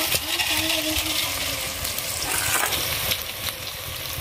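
Sliced onion and green chili hit hot oil already seasoned with five-spice and a bay leaf, giving a steady close sizzle and frying hiss that runs throughout with no talking.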